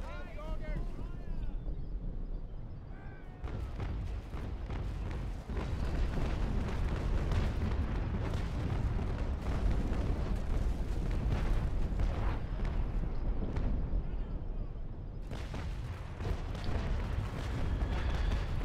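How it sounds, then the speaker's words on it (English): Cannon broadsides exchanged between sailing warships in a Naval Action PvP tournament battle: dense, rumbling booms and roaring bursts rolling almost continuously for the whole stretch, with voices faintly present underneath. "Vile Executioner is taking a full broadside from the Trink"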